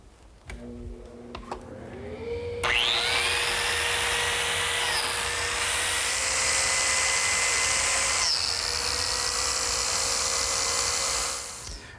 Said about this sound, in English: cut a series of biscuit slots in the edge of the frame about every 8 inches